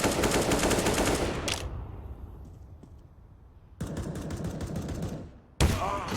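Rapid automatic gunfire bursts in Counter-Strike on the Overpass map, loud and close, with a sustained volley, a quieter lull, then two more dense bursts of shooting.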